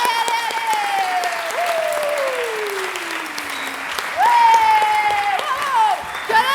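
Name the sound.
applause after a theatre performance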